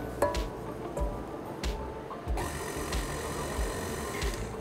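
An electric mixer whirs steadily as it beats curd dough with flour, a continuous close motor hum with small knocks and bumps from the bowl.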